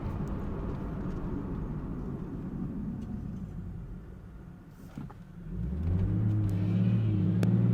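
A 2023 BMW M240i under acceleration: a steady low engine rumble dips briefly, then the automatic transmission jerks hard into the next gear and the engine note climbs louder and rising, heard from inside the car with no talk.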